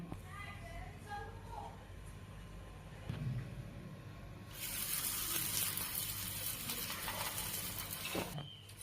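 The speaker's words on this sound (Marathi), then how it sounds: "आता आपण तव्यामध्ये तेल घालून घेऊया" A paratha for paneer rolls frying in oil on a tawa: a low background hiss swells midway into a bright, steady sizzle that fades near the end, with faint voices beneath.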